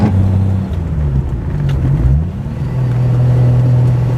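A Triumph TR6 engine drones steadily while driving, its pitch dipping and shifting mid-run as gears change, then settling into a loud, even hum; no talking.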